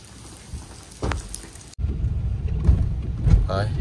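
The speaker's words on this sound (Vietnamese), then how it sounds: "Thôi, mưa rồi" Rain falling around a Tesla Cybertruck, a steady broadband wash with a louder, closer patter after a brief drop midway, and faint voices murmuring underneath.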